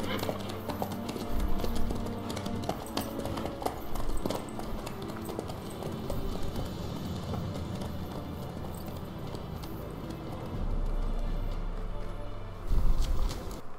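A horse gallops in The Witcher 3 with a steady, rhythmic clip-clop of hooves that surges louder in places, while a voice talks over the hoofbeats.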